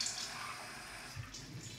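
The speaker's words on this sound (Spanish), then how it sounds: "Y añadiremos un poco de agua, más bien que mejor que esté caliente" Hot water runs into a pan of mackerel with tomato, a soft, quiet splashing pour close by with no voices.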